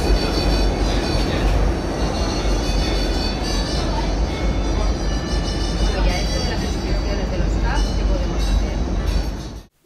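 Loud, steady rumble of a Barcelona metro train running through a tunnel, with rattling wheels and a faint metallic whine throughout, fading out at the end.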